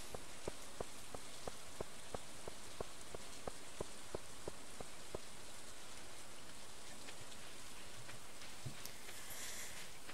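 Rain patters in a farming video game as a steady, moderate hiss, with a run of evenly spaced ticking clicks over the first half.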